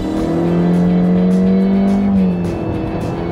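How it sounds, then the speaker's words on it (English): A 2016 Honda Civic with a CVT accelerates at full throttle, its engine droning loudly and climbing in pitch, then dropping once at a simulated shift point before pulling again. "So you can hear those shift points"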